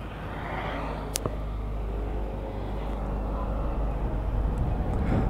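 A 2022 NERVA EXE 9-kW electric scooter pulls away, its road and wind noise building gradually from a low, steady rumble into a fuller rush, with a couple of brief clicks early on.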